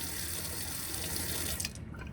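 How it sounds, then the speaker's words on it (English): A pump-fed water tap in a campervan runs in a steady, close hiss of flowing water that fades slightly as it shuts off near the end. "So now the tap, I'll just run it,"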